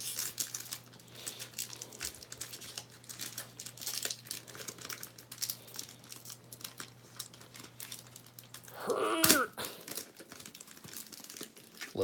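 Crinkling foil wrapper of a Magic: The Gathering Core Set 2019 booster pack being torn open, a steady crackle under a low hum with a louder ripping burst near the end.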